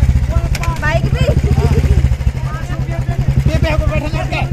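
Motorcycle engine runs at idle, a close, loud, steady low chugging beat, while people talk over it throughout.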